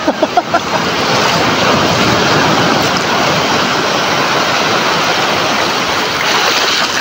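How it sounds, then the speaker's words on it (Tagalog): Strong sea waves surging at a beach resort in Morong, Bataan, a steady broadband wash of surf with wind rumble, loud and continuous, a few brief thumps at the start, no talk. "Ang lakas ng wave ng ang lakas ng wave ng dagat."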